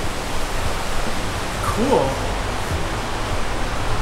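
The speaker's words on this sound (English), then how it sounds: "There's a river here." Steady broadband rush of a river flowing beside a muddy winter hiking trail near a bridge at Rogers Reservoir Conservation Area, continuous and fairly loud, with a brief spoken word partway through.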